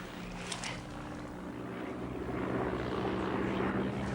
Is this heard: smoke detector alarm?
no